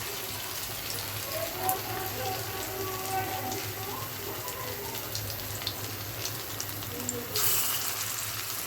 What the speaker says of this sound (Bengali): এখন ছোট ছোট বড়া আকারে ভাজবো।